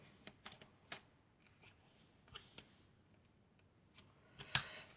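Tarot cards shuffled by hand in a quiet room, a series of soft riffling flicks and sharp card snaps with pauses between bursts, close and fairly faint, with no talking.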